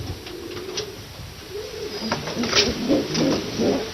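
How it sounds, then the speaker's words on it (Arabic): Racing pigeons coo in soft, throaty, repeated calls, close by against a steady background hiss, growing a little fuller toward the end. "الحمام اللي نحن ننتج منه، الحمام اللي نطيره في السباقات، هذا الحمام اللي نحن نستورده من برا"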